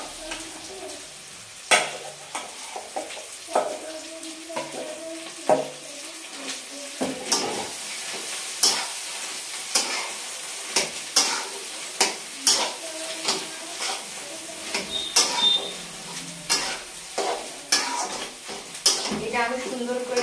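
Mashed potato is stirred and fried in a wok, with a soft sizzle beneath repeated sharp scrapes and clanks of the spatula against the pan at an uneven rhythm.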